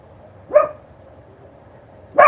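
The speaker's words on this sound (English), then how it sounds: "I don't know why our dog's being so noisy." A house dog indoors gives two sharp single barks about a second and a half apart, moderately near, over a quiet room background.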